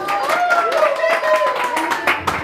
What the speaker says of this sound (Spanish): El aplauso maravilloso, que se escuche.